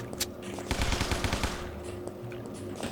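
Rapid machine gun bursts in the zombie shooter game Guns Gore & Cannoli, a dense cluster of loud shots in the middle with scattered single reports before and after over steady game background.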